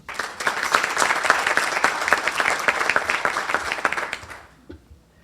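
A room full of people at a Tiger Bay Club healthcare forum breaks into applause, brisk overlapping claps for around four seconds that then stop abruptly, leaving a quiet tail.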